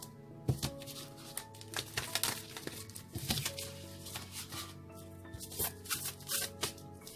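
Cards being shuffled in quick riffling bursts over a faint steady musical drone, with sharper snaps at moments, close by.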